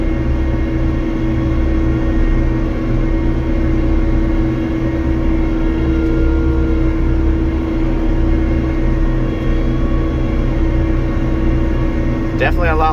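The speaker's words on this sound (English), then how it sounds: "this little engine just is screaming away" A John Deere D450 swather engine running hard at high RPM, a loud, steady droning roar with a strong tonal whine heard from inside the cab, unbroken throughout with a brief rattle near the end.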